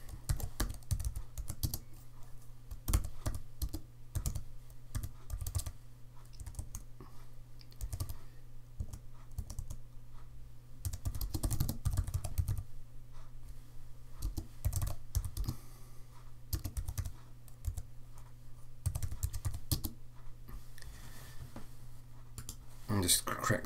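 Fingers typing on a computer keyboard, an uneven close run of clicky keystrokes in bursts and pauses over a low steady hum, while a person talks throughout.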